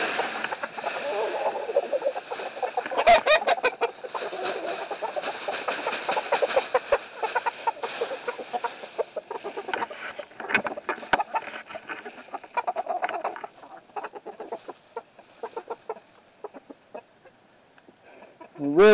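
Chickens cluck and squawk in a busy, ongoing chorus close by, with occasional sharper calls and some handling noise.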